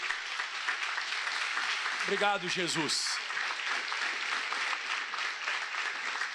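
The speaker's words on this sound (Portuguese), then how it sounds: "Aplauda bem forte ao Senhor." A church congregation claps loudly and continuously throughout, with a voice speaking briefly over the applause partway through.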